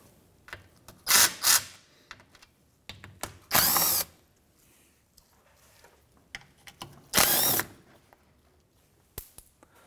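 Ratchet or power driver loosening 8mm bolts on the underbody shield of a 2011-2015 Chevrolet Cruze, heard as several short loud bursts of whirring spaced across the span, with faint clicks and handling noises between.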